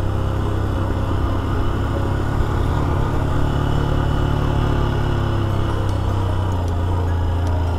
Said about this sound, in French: Je garde mon moteur en dessous de 4000 tours quand même.